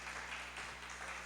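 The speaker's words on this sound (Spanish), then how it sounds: "un aplauso para nuestros compañeros" Applause from attendees at a national education meeting, a steady wash of clapping held at a moderate, fairly distant level throughout.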